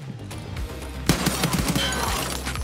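Rapid bursts of gunfire in Escape from Tarkov, a dense volley of overlapping shots with sharp repeated cracks after a quieter start, loud and close.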